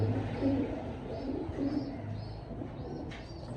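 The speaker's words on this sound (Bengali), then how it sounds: "জাস্ট ডাক দেখেন কবুতরটা কত সুন্দর" A red fawn satin pigeon coos softly and repeatedly in a low, rolling murmur, faint and close, with little else around it.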